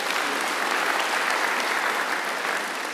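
A church congregation at an online worship service applauds in praise, a dense, steady wash of many hands clapping that stays loud and even for the whole stretch, with no voice standing out.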